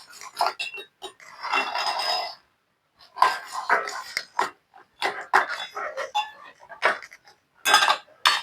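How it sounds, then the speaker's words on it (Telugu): Peanuts being stirred into hot jaggery syrup in a pan for peanut chikki, giving scraping, clattering spoon-against-pan bursts in uneven strokes with short pauses, fairly close and moderately loud. "కలిపేసుకోండి మొత్తం బుడ్డలంతా పాకంలో కలిసేటట్టు కలుపుకోండి"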